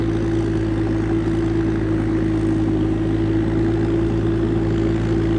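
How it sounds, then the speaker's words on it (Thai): A rotary tiller's engine runs continuously at close range, a steady drone that is loud and unchanging, with a low rumble and a humming tone throughout. "เครื่องยนต์แต่ละตัวในเสียงก็แตกต่างกันเลยนะครับผม"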